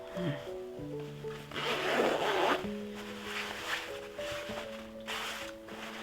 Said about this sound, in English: And of course a metal zipper.